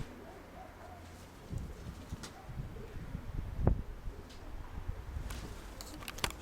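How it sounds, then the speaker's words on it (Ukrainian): Marked pigeons coo softly in low, repeated murmurs, faint and somewhat distant, broken by a few sharp clicks and rustles partway through. "Микола накинув голубів"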